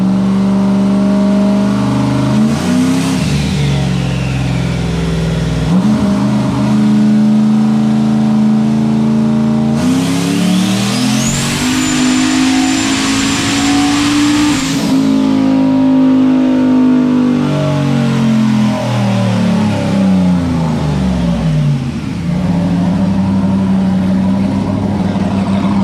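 A 5.3 LS V8 car engine on a dyno run, loud and close, revving up through long sustained pulls with rising pitch, brief drops and a near-continuous high-power roar.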